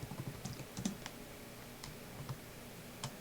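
Quiet, close computer keyboard typing of a network switch configuration command, a sparse run of individual key clicks and taps over a faint background, with no speech.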